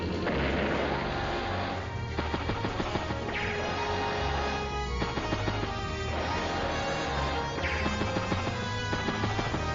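Artillery fire in the strategy video game Advance Wars: Days of Ruin, an artillery unit shelling an infantry unit. Game music runs throughout, with dense, loud booms and crashes that recur every couple of seconds.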